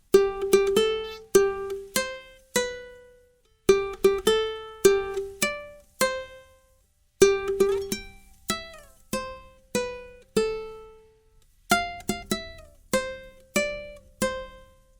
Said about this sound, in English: And the whole playthrough would sound like this.